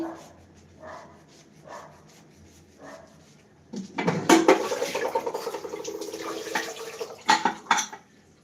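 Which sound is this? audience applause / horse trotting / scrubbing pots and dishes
scrubbing pots and dishes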